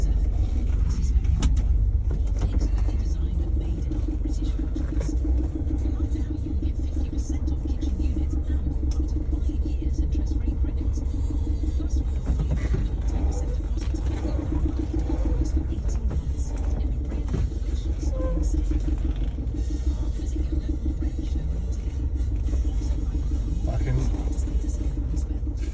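A Vauxhall Vivaro van lowered 35 mm on new alloys, heard from inside on a test drive: a steady low engine and road rumble throughout, with occasional bumps and faint rattles.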